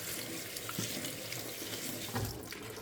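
Tap water runs steadily into a sink as cooked shrimp are rinsed and cooled, a continuous close splashing flow with no talking.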